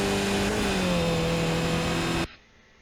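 A Skip Barber race car engine at Laguna Seca in iRacing drones loudly at a sustained high pitch in fifth gear, its tone easing slightly before it cuts off abruptly near the end.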